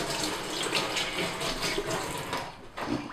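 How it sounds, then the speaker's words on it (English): Tap water runs steadily into a sink as hands are washed, a continuous hissing splash with slight surges near the end and no talk over it. "Quickly wash my hands."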